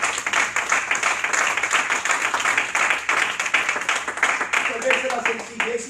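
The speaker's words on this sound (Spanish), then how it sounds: "¿Cuánto dan aplauso?" Church congregation applauding throughout, a dense wash of clapping at steady loudness with voices mixed in and a voice rising near the end.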